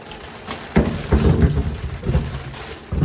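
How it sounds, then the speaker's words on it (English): Apples tumble into a sink of cool water, a cluster of loud, close splashes and thuds in irregular bursts, with the water sloshing between drops. "So we're gonna add in all the apples."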